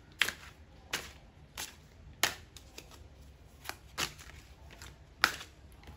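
Tarot cards are shuffled by hand in sharp, papery snaps and slides, about one crisp burst per second with quiet pauses between.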